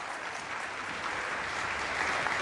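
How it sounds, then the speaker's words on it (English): An audience at a COP26 UN climate change forest event applauds, a steady, dense patter of clapping that swells slightly toward the end. "Can we have a loud round of applause?"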